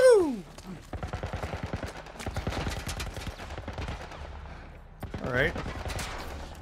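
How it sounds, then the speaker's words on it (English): Rapid bursts of military turret machine-gun fire in The Last of Us Part 1, sharp repeated shots in quick volleys with short pauses, a brief spoken remark between them. "What the fuck are they shooting at us with? Some kind of military turret."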